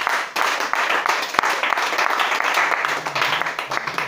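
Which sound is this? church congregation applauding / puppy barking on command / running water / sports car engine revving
church congregation applauding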